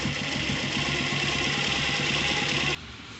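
An electric sewing machine runs steadily while stitching a kurta collar, a close, even mechanical whir with rhythmic needle chatter that cuts off abruptly near the end, leaving quieter room tone.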